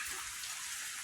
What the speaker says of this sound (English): it's raining out. That's that noise you hear.